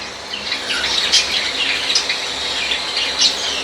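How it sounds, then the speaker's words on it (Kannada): Many wild pet birds, such as cockatiels and other small parrots, chirp and tweet together inside a pet shop in Bengaluru, a steady busy chatter of high calls with brighter peaks rising now and then. "ಇದೆಲ್ಲನೂ ವೈಲ್ಡ್ ಬರ್ಡ್ಸು."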